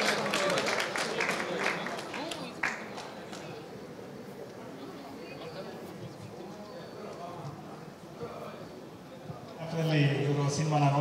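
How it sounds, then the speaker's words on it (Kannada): Crowd applause at a stage event welcomes Siddaramaiah onto the stage, a burst of clapping at the start and again near the end, mixed with voices. "ಚಪ್ಪಾಳೆಯೊಂದಿಗೆ ಸ್ವಾಗತಿಸಿ ಶ್ರೀಯುತ ಸಿದ್ದರಾಮಯ್ಯ ಸರ್ ಅವರನ್ನ ವೇದಿಕೆ ಮೇಲೆ"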